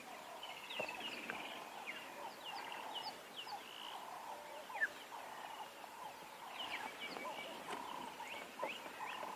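Assorted birds call and chirp steadily across a quiet African safari scene at sunset near a resting lion pride, overlapping calls with no voices.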